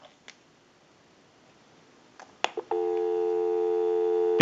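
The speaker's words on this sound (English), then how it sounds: "We'll go ahead and give you some dial tone," Steady telephone dial tone on a Western Electric rotary Princess telephone line, sounding continuously after a few clicks of the handset and switch hook, alone with no talk.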